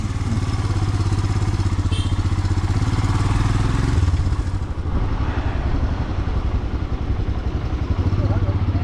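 A motorcycle engine idles steadily on an Assam-to-Nepal road trip, its low, even chugging loud and close throughout with a light clatter and a brief dip in level midway.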